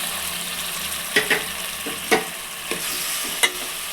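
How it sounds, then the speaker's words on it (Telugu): Tomatoes and green chillies frying with onions in a pan, heard as a steady soft sizzle with a few brief stirring scrapes and clicks, close and alone. "ఆనియన్స్ ఇలా బాగా వేగినాక ముందుగా కట్ చేసి పెట్టుకున్న టమోటాని ఒక నాలుగు పచ్చిమిర్చి వేసుకోండి"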